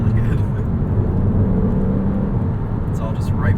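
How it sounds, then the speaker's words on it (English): Porsche Cayman flat-six engine with its mechanical induction and exhaust note, a continuous low cabin drone heard close and steady, with a brief hint of a voice near the end. "there's still that mechanical Porsche Flat 6 sound to it"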